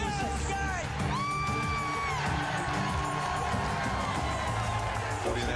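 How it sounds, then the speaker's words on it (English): A football stadium crowd on its feet during a 2001 49ers vs Bears NFL game, roaring loudly and steadily with whoops and yells layered over a dense, continuous wall of cheering. "Crowd on its feet, making noise."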